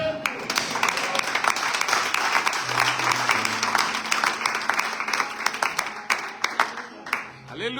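Applause from a church congregation during a sermon, scattered clapping that swells and thins over several seconds, with voices and a sustained tone underneath.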